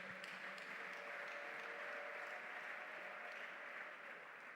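A church congregation breaks into sustained applause, a dense, even wash of clapping that holds steady and fades slightly at the end, with no voices over it.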